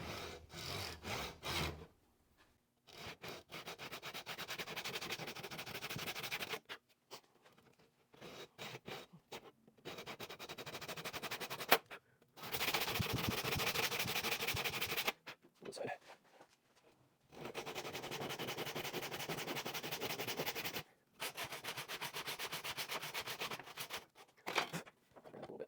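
Hand saw cutting into a Kelly Worlds Finest FS Pulaski axe, long steady rasping strokes in sustained runs separated by brief pauses, close and fairly loud.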